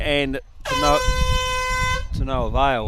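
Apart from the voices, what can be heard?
air horn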